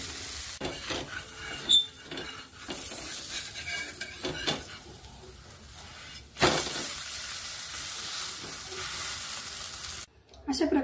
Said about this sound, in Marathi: मग आपण हे थालीपीठ तव्यावरती टाकूया।